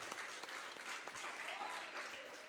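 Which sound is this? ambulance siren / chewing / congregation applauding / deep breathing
congregation applauding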